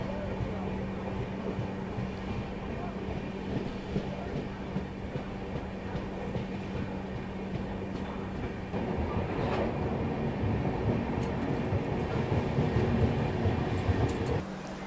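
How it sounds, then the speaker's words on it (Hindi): The Hazrat Nizamuddin–Ernakulam Millennium Express, hauled by a WAP7 electric locomotive, rumbles past with a steady low rolling drone and rail clatter, growing louder and rougher partway through, with a faint tonal hum underneath. "WAP7 के साथ ये आपकी मिलेनियम एक्सप्रेस हज़रत निज़ामुद्दीन एर्नाकुलम"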